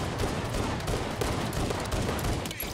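Enemy gunfire from three attackers in a shooter video game, rapid continuous shots rattling densely and loudly throughout with no pause.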